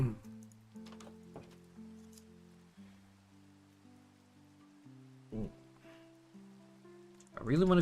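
Rain patters steadily in a Minecraft world, a soft hiss beneath melodic game music, with a few brief louder bursts and a swell of noise at the end.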